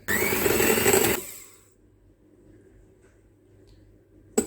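An electric mixer beats egg whites with caster sugar for a tres leches cake: a loud, close motor whine that rises in pitch for about a second, then cuts off, leaving a quiet room.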